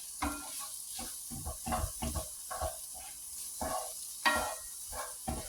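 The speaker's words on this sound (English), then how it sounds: "I'm starting to get a nice little char on the peppers." Peppers charring in a hot pan for a pasta salad, stirred now and then; a soft sizzle under irregular scraping and clattering stir strokes, close by and fairly quiet, with no voices.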